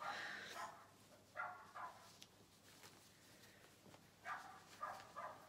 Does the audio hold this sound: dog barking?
yes